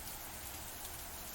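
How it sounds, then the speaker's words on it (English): Steady rain patters against windows in the video game Mamyia, a dense, even hiss of drops with a soft low rumble underneath, continuous and fairly quiet. "I could hear the rain pattering against the windows."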